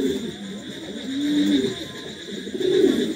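Pigeons coo softly and repeatedly at close range, with low, rolling calls over a faint steady hum.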